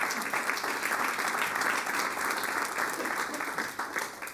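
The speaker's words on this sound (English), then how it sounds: "that's applause, Ronnie." Steady applause from a crowd at a city council meeting in Carson, sustained clapping throughout with a dense, even texture.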